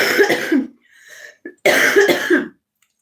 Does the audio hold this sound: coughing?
yes